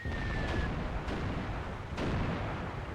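Artillery volleys in the wargame Armored Brigade 2: continuous low rumbling barrage with a few sharper impacts standing out, heavy and sustained throughout, no voices.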